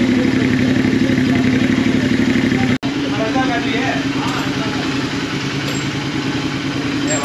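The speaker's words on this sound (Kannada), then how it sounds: "DB ಕಿಲ್ಲರಲ್ಲಿ ಈ ಥರ ಸೌಂಡ್ ಬರ್ತಾಯಿದೆ" A Royal Enfield Continental GT650 fitted with a 2x1 SS Moto Corp full-system exhaust with the dB killer in place idles loud and close in a steady, even thrum, briefly cutting out for an instant partway through.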